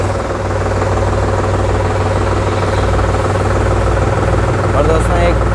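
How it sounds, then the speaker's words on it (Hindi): A Sonalika Tiger tractor, a 2023 model, idles steadily at close range after its key-switch start, giving a continuous low, even engine rumble with a faint vibrating throb. "मैं गाड़ी को चालू करके भी दिखाऊँगा और इसका साउंड भी आप लोगों को सुना देते हैं।"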